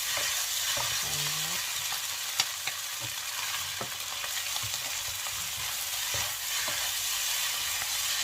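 Tomatoes stir-frying in a pan for Thai fried rice, a continuous close sizzle broken by sharp spatula scrapes and taps, with no talking.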